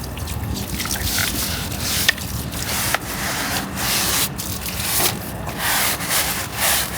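An object is scrubbed clean with a continuous harsh rubbing that rises and falls in uneven strokes, loud and close, broken by a couple of sharp knocks.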